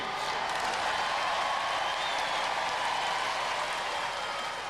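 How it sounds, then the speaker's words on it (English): A crowd applauds steadily, dense clapping that stays even and fairly loud throughout, with no pauses. "Let's have a nice round of applause for both these teams."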